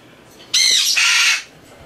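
A pet bird lets out a loud, harsh squawk indoors, two sharp back-to-back screeching bursts lasting about a second, close and piercing against a quiet room.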